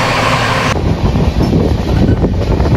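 Inside a moving long-distance train bound for Jammu, a steady rumble and rattle carries through the carriage, loud and close, with a wind-like rush over it.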